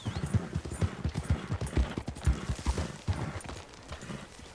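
Horse hooves clip-clop in a steady, close rhythm in the video game Red Dead Redemption 2, a string of sharp, evenly spaced hoof strikes running throughout with a faint whinny-like call mixed in.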